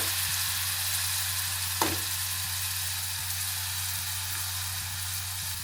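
Garlic, coriander and masala paste sauté in a pan for a prawn and okra curry, giving a steady close sizzle over a low constant hum, with one brief clink partway through.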